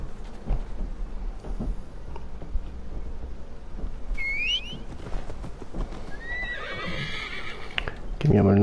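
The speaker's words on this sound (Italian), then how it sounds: "Chiamiamo il nostro amico cavallo" A horse in Assassin's Creed Valhalla whinnies briefly in the middle, a short high neigh over soft game ambience and someone talking, with hoofbeats and another whinny toward the end.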